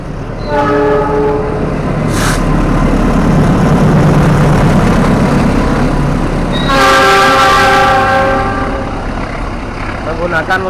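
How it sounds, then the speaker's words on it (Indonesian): A freight train hauled by a CC206 locomotive rumbles past close by at Kadipiro station in Solo with a heavy, continuous roar, and horn blasts sound near the start and again midway. "Terlihat kereta api barang lewat di depan kita di stasiun Kadipiro."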